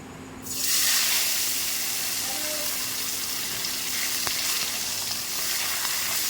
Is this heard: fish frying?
yes